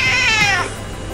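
A house cat gives a single clear, close meow that falls in pitch and fades after about half a second, with no talk.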